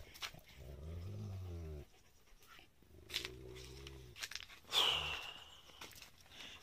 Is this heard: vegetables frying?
no